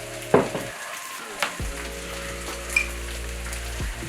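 Rice vinegar sprinkled over spicy fried rice in a hot pan, the sizzle briefly quieting then surging back as a steady loud frying hiss with a few clinks of utensils.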